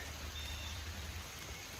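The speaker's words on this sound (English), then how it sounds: "It's raining. The water level is coming up." Steady rain falls outdoors in wilderness near rising water, a soft continuous hiss with no talking over it.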